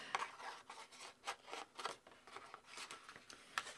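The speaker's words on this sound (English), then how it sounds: "I'm going to try the scissors again." Scissors snip quietly through paper during an art session, a faint series of short, irregular cuts and rustles in a quiet room.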